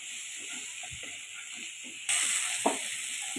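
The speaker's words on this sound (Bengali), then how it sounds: "লাউটা ভালো করে ভেজে নেব" Diced bottle gourd with salt and turmeric fries in hot oil, giving a close, steady sizzling hiss that grows louder partway through, with a brief utensil knock near the end.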